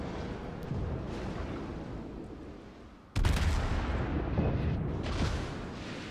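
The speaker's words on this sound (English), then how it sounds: "I think the Dmitry Donskoy is shooting at me" Naval guns fire in World of Warships as the cruiser Dmitry Donskoy shoots at the ship, a sudden heavy boom midway followed by rumbling blasts over continuous low battle noise.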